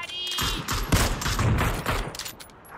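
Rapid bursts of gunfire in PUBG: Battlegrounds, loud close shots and sustained fusillade crackling through the whole stretch with overlapping volleys.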